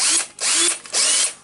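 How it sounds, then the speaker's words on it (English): A Makita DHR458 18V cordless rotary hammer drill runs in hammer mode in three close bursts of rapid, harsh, buzzing hammering, each separated by a short pause. "Yeah, it hammers."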